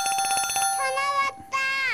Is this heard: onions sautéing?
no